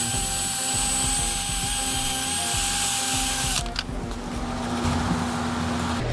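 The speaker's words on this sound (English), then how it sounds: "you might be wondering why I'm using a drill" A battery-powered drill whines steadily while loosening the impeller on a 10 HP centrifugal pump, running loud and continuous, then its pitch and level drop partway through as it keeps spinning.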